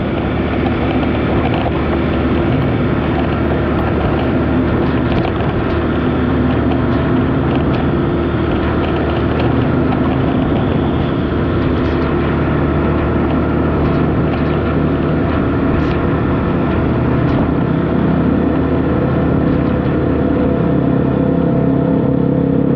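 A vehicle engine with an open-pipe exhaust drones loudly and steadily, a dense low rumble running continuously throughout with no voices.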